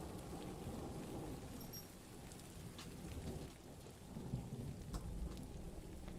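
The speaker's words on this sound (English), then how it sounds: "we got some thunder going on as well." Recorded thunderstorm: heavy rain patters steadily while low rolls of thunder rumble through, faint and distant-sounding, with no voices.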